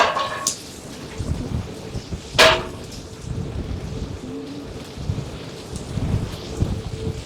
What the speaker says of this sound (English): Just like that, big gusts of wind coming through.